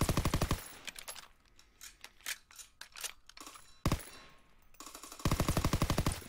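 Video game gunfire rings out as targets are shot, with rapid automatic bursts at the start and end framing scattered single and double shots in between, loud and close with no talk.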